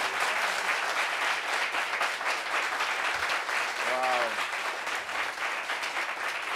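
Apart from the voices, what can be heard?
audience applause for a studio guest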